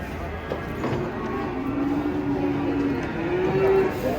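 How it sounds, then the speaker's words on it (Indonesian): Cattle lowing as giant cows are unloaded from a truck for Qurban, with drawn-out moos rising over a busy background of shuffling, clatter and distant voices. "Sapi unik berbulu bagus ini."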